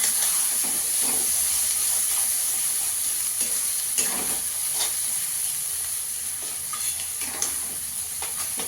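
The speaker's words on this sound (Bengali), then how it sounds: "এবার আমি বেগুন বাটাটা দিয়ে দেবো। দিয়ে একটু ভেজে নেব।" Brinjal paste fries in a pan with a continuous close hiss and sizzle, punctuated by repeated scraping stirs throughout.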